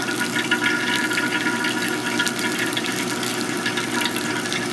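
Hot water poured slowly and carefully from a kettle over drip coffee grounds, a steady close trickle and splash holding at an even level throughout, with no talk.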